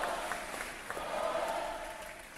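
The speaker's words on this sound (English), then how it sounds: "Please give our family members a round of applause." Applause from a school assembly audience for veterans' family members on Veterans Day, a soft, steady patter of clapping heard from a distance with a faint crowd murmur.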